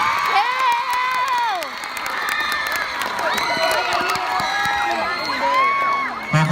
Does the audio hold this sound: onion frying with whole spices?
no